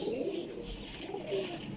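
Pigeons of a competition flying breed in a loft softly cooing, low repeated murmuring calls that sit faintly in the background with no talking.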